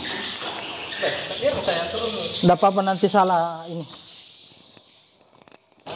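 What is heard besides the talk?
birds singing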